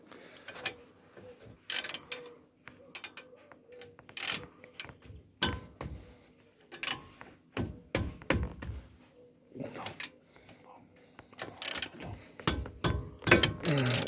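Tools turn and remove screws on a Mitsubishi L200 brake assembly during a brake pad change, making repeated ratcheting clicks, metallic clanks and knocks in an irregular rhythm, close up with no talk.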